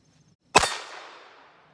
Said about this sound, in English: hit it first shot